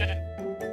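Two or three short, nasal bleats come from a Minecraft sheep, close and clear, quickly following one another in under a second, with no talk over them.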